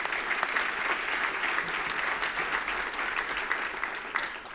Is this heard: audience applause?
yes